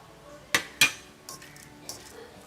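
A cooking pot being covered with its lid while salted drumstick curry cooks: two sharp metallic clanks close together, followed by two softer knocks, in a quiet kitchen.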